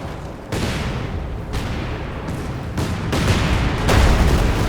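A light artillery barrage in the World War II strategy game Company of Heroes 2 during a 1v1 match: dense overlapping booms and shell impacts that roll continuously and grow heavier toward the end, with no speech.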